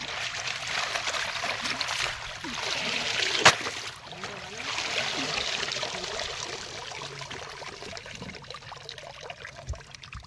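Running water trickles and splashes steadily as freshly caught fish are rinsed, with one sharp knock partway through and soft background noise, at a night fishing camp in the Sundarbans.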